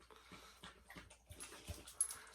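A small dog named Hershey whimpers and yips softly in short, quiet bursts, close but faint, with light rustling and no speech.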